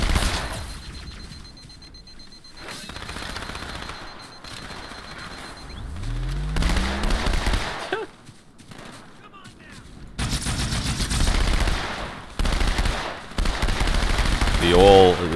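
Needler and submachine gun fire in the Halo 2 campaign, with bursts of rapid automatic shots and loud blasts coming in uneven waves, while a voice talks at times in between.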